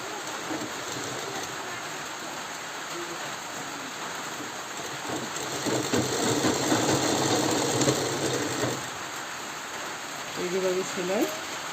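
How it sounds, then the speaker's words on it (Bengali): A sewing machine stitching cloth gives a steady, busy mechanical clatter that grows louder in the middle, then pauses before a brief final run. "এভাবে উল্টিয়ে চাপ সেলাই দিতে হবে।"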